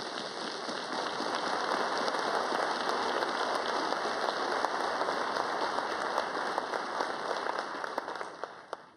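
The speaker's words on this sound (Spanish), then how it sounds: "Un aplauso a la mujer policía de Colombia." A large crowd applauds at a Colombian National Police promotion ceremony, a dense, steady patter of many hands clapping that holds for several seconds before tapering off.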